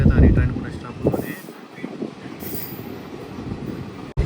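The Puri to Tirupati Express pulls out of Bapatla station with loud rumbling rail noise, wheel squeal and wind buffeting close by, the clatter steady and dense throughout.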